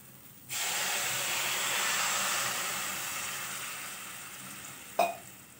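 Hot water poured into a pan of sevai upma with vegetables sets off a loud, steady sizzle and steamy hiss lasting several seconds, easing slowly, with a brief clank near the end.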